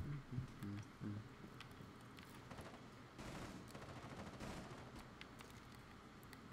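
Gunfire crackles in Rainbow Six Siege, fairly faint bursts of automatic shots and scattered single pops heard at a distance through a busy in-game mix.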